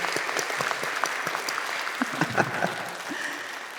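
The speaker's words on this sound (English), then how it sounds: "We give them a round of applause." An audience applauds the Class of 2021 at a commencement ceremony, giving a sustained round of clapping at fairly close range, with a few sharper claps standing out from the dense patter.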